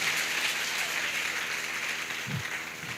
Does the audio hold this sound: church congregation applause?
yes